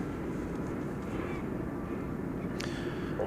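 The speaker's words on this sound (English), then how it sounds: "So Flight 801 cleared for takeoff to Mexico City, and Airbus A321neo is what this is." A Volaris Airbus A321neo, flight 801 to Mexico City, takes off at night from runway 18 Left at DFW Airport, a steady broadband jet roar that holds level throughout.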